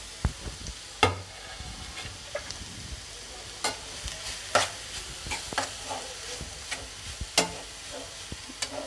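Grated carrot for carrot halwa is stir-fried in a pan until reddish, with irregular scraping strokes and knocks of the spoon over a steady close sizzle.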